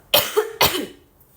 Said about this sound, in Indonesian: Tuh, batuk mulu deh, nggak sembuh-sembuh